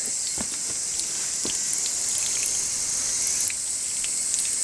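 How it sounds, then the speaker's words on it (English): Natural spring water flows on a permaculture site, a steady close trickle and splash with a few scattered drips and no talk. "And this is the water that's flowing."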